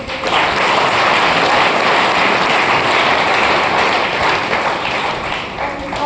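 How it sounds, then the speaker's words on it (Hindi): Dense crowd applause from an audience at a talk, a steady wash of many hands clapping that stays loud and even throughout before easing slightly at the very end. "बहुत बढ़िया ताली होनी चाहिए खोजी लोग"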